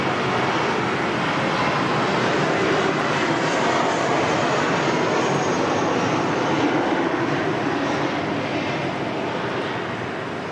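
A Qantas airliner arriving from Melbourne at Sydney Airport in wet, windy weather gives a loud, continuous broadband jet roar that fills the whole stretch, steady with a slight fade near the end and no voices.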